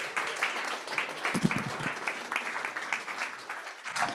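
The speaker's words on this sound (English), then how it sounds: "Give Eric a round of applause." Moderate audience applause at an investment summit pitch session: a crowd claps in quick, uneven strikes, fairly distant in the room, for about four seconds.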